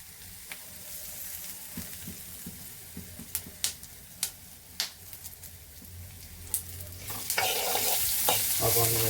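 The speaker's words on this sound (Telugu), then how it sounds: "ఈ హాఫ్ ఆనియన్ అయితే వేసుకుంటున్నాం" Half an onion drops into a hot pan and sizzles, with a steady frying hiss, scattered sharp taps of a spoon stirring, and the sizzle flaring louder near the end as the pieces are tossed.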